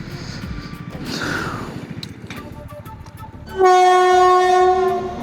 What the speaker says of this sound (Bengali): শেষমেশ মালগাড়ি চলে গেল